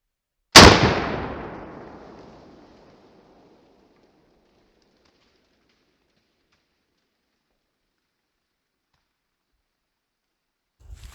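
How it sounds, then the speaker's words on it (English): A single loud close 45-70 rifle shot from a near-maximum handload with a hard cast bullet, a sharp crack whose echo fades over about two seconds, then silence and a faint knock at the end. "The first one we're going to shoot is the near maximum hand load Acme"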